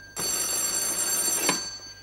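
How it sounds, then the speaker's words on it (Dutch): An old telephone bell rings loudly indoors in a short burst lasting under two seconds, with a metallic jangle, then cuts off. "Och, dit is de telefoon."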